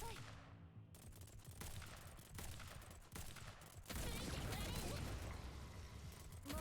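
Rapid bursts of automatic gunfire from Girls Frontline: Isomer, a dense loud fusillade of overlapping shots that swells louder midway, with in-game music and effects underneath.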